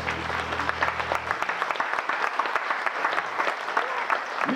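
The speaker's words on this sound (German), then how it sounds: "Klatscht immer für den" A sustained low musical note gives way to a concert audience clapping for a guitar-led children's band, with distinct, slightly uneven claps carrying on at moderate volume.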